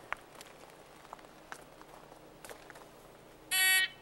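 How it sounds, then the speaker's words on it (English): A buzzer used as an assault cue to start shooters at a shooting drill gives one short, loud, harsh burst at the very end, after a quiet stretch with faint ticks and background noise. "I will use an assault cue that sounds like this."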